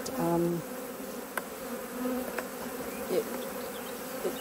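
Honeybees buzzing at the front of the hives, a soft continuous hum with a few louder passes of individual bees close by, no speech.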